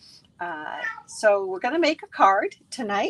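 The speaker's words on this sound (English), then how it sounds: "As soon as I start talking, you will hear him meowing." A pet cat meows repeatedly and loudly right beside the microphone, its drawn-out cries overlapping and alternating with someone talking indoors.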